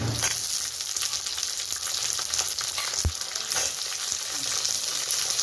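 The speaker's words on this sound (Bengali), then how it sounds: "এবার দিয়ে দিচ্ছি কড়াইশুঁটি।" Fresh green peas fry in a wok with chopped ginger, garlic and green chilli, giving a steady close sizzle broken by scattered stirring knocks and one sharp clunk partway through.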